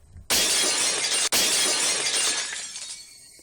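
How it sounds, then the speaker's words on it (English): Glass shatters as a sound effect in the Higurashi visual novel game: a sudden loud crash with a bright, sustained spray of breaking shards that tapers off over a few seconds. "The unpleasant, piercing sound of shattered glass."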